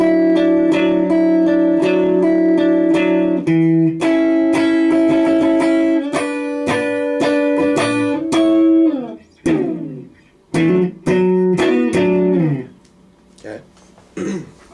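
Clean electric guitar plays the chorus riff of a song: ringing chords, then a sliding phrase and scattered plucked notes that thin out toward the end.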